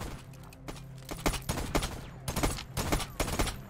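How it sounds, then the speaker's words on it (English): Rapid gunfire from a weapon in the Voidtrain video game, a steady run of sharp shots that grows denser and punchier toward the end over a constant low game hum, with no talking. "a very satisfying gun, not gonna lie"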